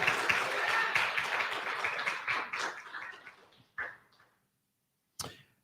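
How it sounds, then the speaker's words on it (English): A church congregation applauds after a worship song, a dense burst of clapping that thins out and dies away, ending with a few isolated claps. "you can clap for it, yeah"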